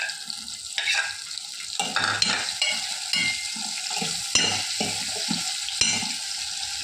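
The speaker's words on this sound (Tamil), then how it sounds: "இப்போ வெங்காயம் நல்ல எண்ணெயில் வதங்கிடுச்சு. இப்போ நம்ம வதக்கி வச்சுக்கிற கத்திரிக்காய் வச்சுக்கலாம்." Stuffed eggplant and onions fry in oil with a close, steady sizzle, broken by repeated clacks and scrapes of a utensil stirring against the pan.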